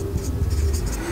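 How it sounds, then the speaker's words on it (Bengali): A marker or chalk scratches across a board in one continuous stroke that lasts about a second, close and clear over a low hum, with no speech. "তাহলে আমরা প্রথমে লিখব"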